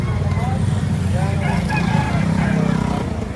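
Roosters crowing amid the bustle of a busy chicken market in Batangas, faint and partly masked by steady crowd noise and a passing engine.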